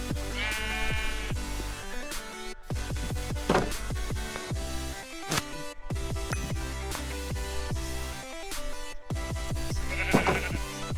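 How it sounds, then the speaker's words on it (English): Several sheep bleats ring out inside a Minecraft world running the Monifactory modpack, short wavering calls scattered over steady background music with a few clicks, with no voices speaking. "That's one sheep in there."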